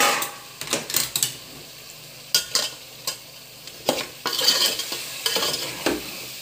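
Boiled mutton, cooked with turmeric, ginger-garlic and salt, is stirred in oil in a frying pan for a cucumber and fenugreek curry; a spoon scrapes and clinks in repeated strokes over a soft sizzle, close and fairly loud.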